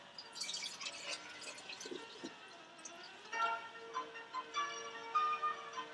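Kombucha pours steadily into a glass mason jar with a fizzy, bubbling trickle, the tone rising slightly as the jar fills.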